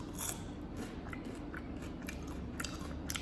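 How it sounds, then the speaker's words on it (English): Crunchy homemade fries are bitten and chewed close to the microphone, giving several quiet, crisp crackling bites over a low background hiss. "But that crunch though, it's worth it."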